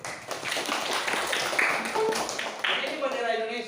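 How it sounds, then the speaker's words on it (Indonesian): Classroom of pupils clapping their hands together in a steady, fairly loud patter that lasts a few seconds, with voices mixed in. "Ya, tepuk tangan dulu"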